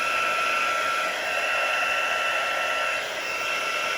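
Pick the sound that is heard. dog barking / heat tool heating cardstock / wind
heat tool heating cardstock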